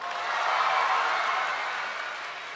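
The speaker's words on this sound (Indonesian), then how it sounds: "Semuanya tepuk tangan." Audience applause in a large hall during a live public speech in Bandung, a steady continuous wash of clapping that swells slightly and then holds, with no voices standing out.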